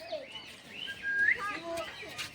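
A few sharp, rising calls from a red parrot ring out at moderate distance, brief squawks and chirps over a quiet outdoor background.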